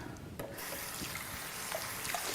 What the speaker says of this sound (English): I like to use soap and water to start with. Rinse them well.